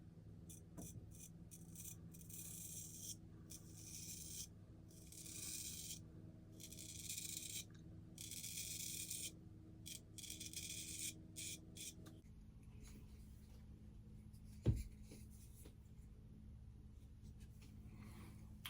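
A stainless steel razor blade makes its first pass with the grain, giving close, steady scratchy rasping strokes in quick bursts broken by short gaps, followed by quieter handling and a single sharp click, with no talking.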